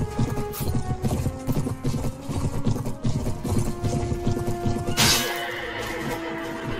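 Cavalry horses gallop in the Mount and Blade Warband game with dense, rapid hoofbeats and battle clatter, ending in a loud crash-like impact and a continuing din.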